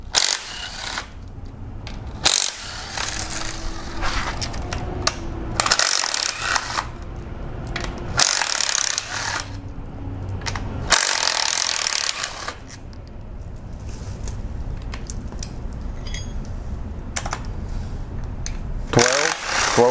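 A ratchet fitted with a 10mm socket loosens timing cover bolts on a Jeep 2.4 engine. It comes in repeated bursts of brisk metallic clicking separated by short pauses, close and fairly loud.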